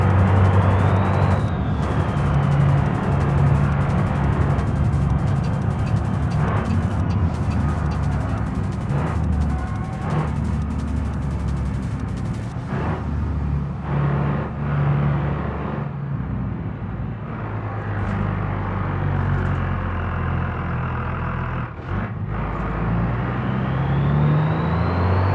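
A car engine in the BeamNG driving game drones loudly and continuously, with the pitch climbing and falling as it revs through gears. A few brief transient knocks cut through the steady roar.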